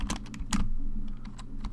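Fingers type on a computer keyboard in a steady patter of close, crisp key clicks with a few louder strikes, under a constant low hum. Nobody speaks.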